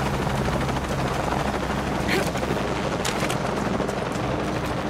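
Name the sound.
helicopter in Shadow of the Tomb Raider video game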